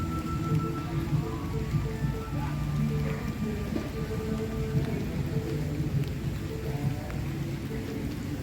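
Steady rain pours down around an open-air bamboo restaurant on a rainy afternoon, a constant wash of drops with faint distant thunder, while voices chatter softly in the background.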